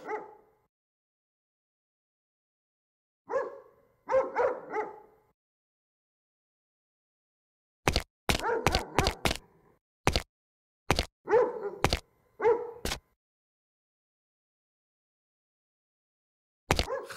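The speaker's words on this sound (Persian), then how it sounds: "با وجود این سگ عصبانی رفتن به بیرون کار خطرناکیه" Angry dog barking in the 2015 Iranian noir video game Dark Years: scattered bursts of sharp barks and yelps, some clustered in quick runs, separated by silences, fairly close and loud with no talk.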